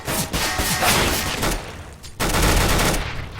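Rapid gunfire from Counter-Strike on the de_cache map during an ESEA playoff match, with dense, loud bursts of shots filling most of the moment and a brief dip before another volley.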